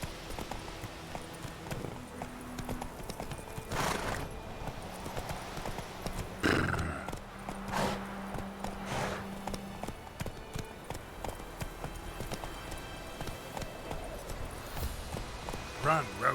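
Roach the horse gallops in The Witcher 3, a steady stream of hoofbeats with a whinny partway through, under game music and spoken dialogue.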